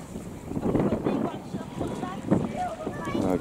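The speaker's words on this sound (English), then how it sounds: "we are picking up the wind here" Wind on a beach buffets the microphone in a steady low roar with gusty swells, close and fairly loud throughout.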